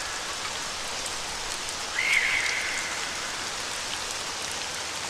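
Steady rain falls on a surface through a night in a Hindi horror story, a constant close hiss with one slightly louder swell midway and no voices.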